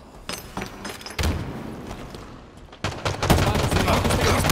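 Bursts of gunfire from Halo Infinite multiplayer, crackling weapon shots in uneven clusters, with a louder, denser volley building toward the end.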